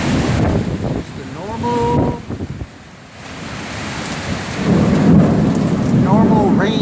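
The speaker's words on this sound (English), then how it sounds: "Just a regular old rain." Summer rain storm in Central Florida with thunder and wind, heavy rainfall loud and close that dips briefly mid-way before swelling again, with a few brief voices under the downpour.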